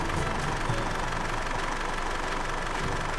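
A hot Isuzu D-MAX diesel engine idles with a steady, dense low rumble and a rough knocking texture, close and loud throughout, with no talking.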